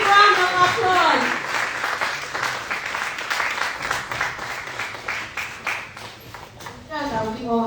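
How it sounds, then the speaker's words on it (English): Audience applause at a summit, an uneven run of hand claps from a moderate crowd that swells and fades, with a voice speaking at the start and end. "Please let's give him a very big round of applause."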